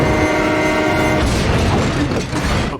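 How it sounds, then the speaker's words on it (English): A train horn blares steadily in a movie scene while the passing train rumbles loudly beneath it, the horn fading into heavy rolling rail noise and clatter. "He could have missed the train."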